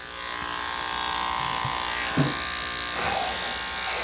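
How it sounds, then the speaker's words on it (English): Electric clippers buzz steadily and close up while a Yorkie is groomed, a constant droning hum with a few brief knocks and rustles and no talking over it. "He seems patient with the clipper."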